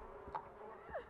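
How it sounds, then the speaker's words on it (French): Flies buzz in a foul-smelling room in a horror video game, with a couple of faint, brief buzzing passes over a quiet background. "Ça pue, y'a des mouches partout."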